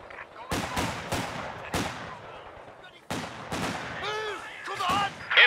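Machine gun fire in the video game Company of Heroes 2, heard as a series of sharp, loud bursts with short echoing tails, broken by a brief pause and followed by further shots and battlefield noise.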